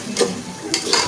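Masala bhindi, okra cooked with spices, is stirred in a hot pan, two or three short scraping sweeps close by over a soft steady sizzle.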